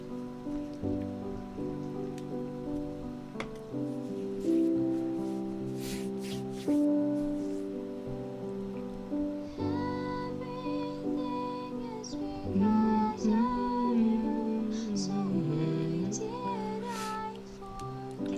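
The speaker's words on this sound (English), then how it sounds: "I've described the piano sounds like if you were to somehow play a piano under a blanket" A piano played through speakers and re-recorded sounds muffled and soft, as if under a blanket. Sustained chords and melodic lines flow continuously at a moderate, even level.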